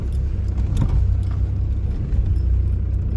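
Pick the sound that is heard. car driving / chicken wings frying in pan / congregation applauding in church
car driving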